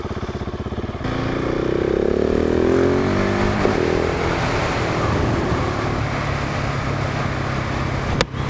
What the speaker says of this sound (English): Man, that exhaust is just ridiculous.